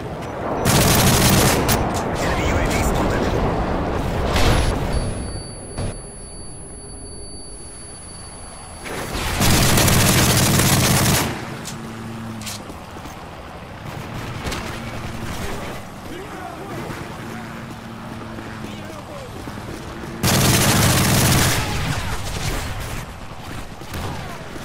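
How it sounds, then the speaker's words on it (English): Enemy airstrike in Call of Duty MW3 multiplayer: three loud, broad explosion blasts land several seconds apart, separated by scattered gunfire, mechanical clatter and quieter battlefield noise. "Enemy airstrike."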